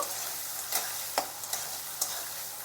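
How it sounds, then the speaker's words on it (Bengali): Green peas with slit green chillies frying in a pan for lau ghonto with prawns make a constant close sizzle, punctuated by a few sharp stirring scrapes. "দিয়ে দিচ্ছি মটরশুঁটি এগুলো একটু ভেজে নেব"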